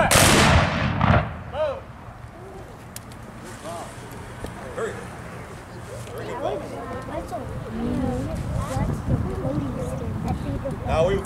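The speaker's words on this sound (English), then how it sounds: "a company volley where all of the rifles were fired" Company of rifles at a military history reenactment in Gordonsville, Virginia, fires a single loud, sharp volley at the start, then a long, rumbling echo fades out. Voices and outdoor crowd noise carry on beneath it afterward.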